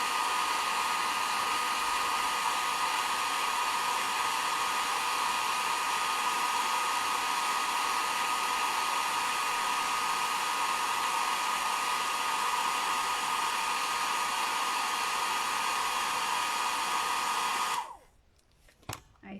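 Hair dryer blowing steadily on painted fabric for a craft lion accessory holder, a loud continuous whoosh that cuts off near the end.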